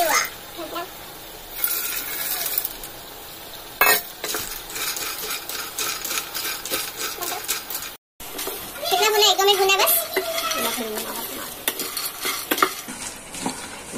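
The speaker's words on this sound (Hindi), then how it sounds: "अब ये सेंग है इसे हम थोड़ा सा भून लेंगे ताकि ये थोड़ा रोस्ट हो जाएंगे" Peanuts dry-roasting in a pan while being stirred, a rattling scrape of nuts and spoon against metal with light sizzle, close and continuous, with people talking over it.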